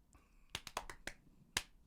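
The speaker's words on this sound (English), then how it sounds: "The extra special clap." A quick uneven run of sharp hand claps, five close together then a pause and one final clap, crisp and near in a quiet room.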